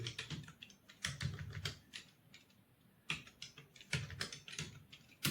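Rapid keystrokes on a computer keyboard during typing-speed practice for a junior assistant typing test, with clusters of crisp clicks close up and brief pauses between the bursts.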